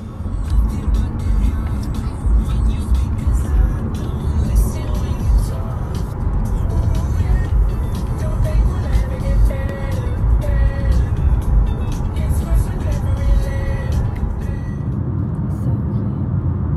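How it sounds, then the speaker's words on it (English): Inside a moving rental car, a steady low rumble of tire and engine road noise runs continuously under intermittent talking from the occupants. "So we're in the rental car."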